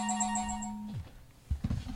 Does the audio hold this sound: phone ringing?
yes